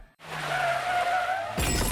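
Car tires squeal in a long skid, loud and close, then a sudden smashing crash of impact bursts in at the end, as in a car-accident effect in a law firm's advertisement.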